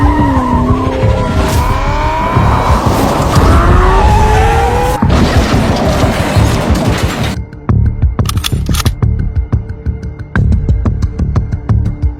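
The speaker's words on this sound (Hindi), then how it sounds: "गाड़ी का साउंड आ रहा है और लेट्स गो। अपनी गाड़ी, अपनी फरारी यहाँ पर आ चुकी है।" A Ferrari in GTA 5 roars in with screeching tires and skidding, a loud, close engine and squealing rubber that cut off abruptly, followed by sharp bursts of rapid gunfire.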